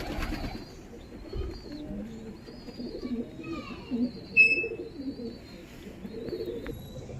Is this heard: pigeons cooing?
yes